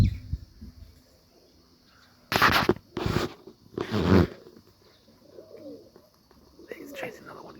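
Six Serbian highflyer pigeons fly outdoors. A few bursts of fluttering wing noise come with soft pigeon cooing, nearby and moderately loud.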